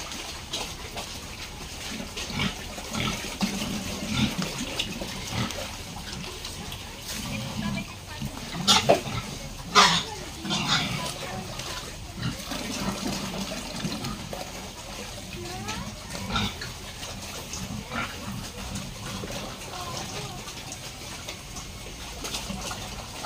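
Grower-stage pigs, about three months old, grunt and squeal repeatedly at close range, a noisy, busy chorus with some splashing and occasional voices in the background.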